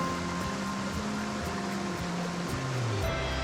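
A cool mountain valley stream in Gangwon-do rushes steadily and continuously nearby, a dense even wash of flowing water with a faint low tonal hum underneath.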